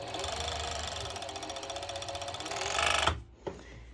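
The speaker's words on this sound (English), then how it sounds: "I am going to first serge the side" A serger overlock machine stitches a fabric side seam with a fast, even mechanical chatter. It runs steadily for about three seconds, stops abruptly, then gives one short knock.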